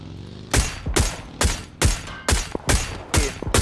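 Gunfire in PUBG, a rapid run of about eight loud, sharp shots spaced roughly every half second, each with a short echoing tail.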